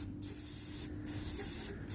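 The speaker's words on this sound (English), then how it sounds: "let's see if brake parts cleaner works on this" Three short, loud bursts of aerosol brake parts cleaner sprayed onto a grimy EGR component from a diesel engine, each hiss lasting a fraction of a second, with quiet gaps between.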